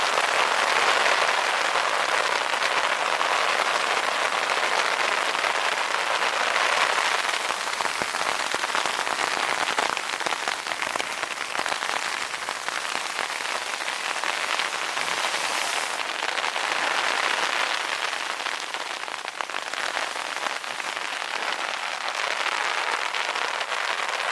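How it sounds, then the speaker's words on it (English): Hail patters densely and steadily on a tarp at a mountain campsite on the John Muir Trail, a loud, continuous crackling hiss with no let-up and no voices. "Hail."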